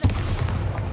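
A single booming impact from the Bombarda blasting spell in a Harry Potter video game, a sharp thump at the start followed by a low rumbling tail, fairly loud and alone.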